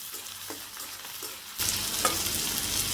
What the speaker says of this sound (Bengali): পেঁয়াজটা একটু লাল করে ভেজে আমি দিয়ে দিচ্ছি চিংড়ি মাছ।